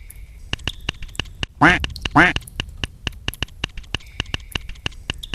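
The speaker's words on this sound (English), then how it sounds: "And don't mind the duck." A duck lets out two loud, close quacks in quick succession against a background of sharp, irregular tapping clicks.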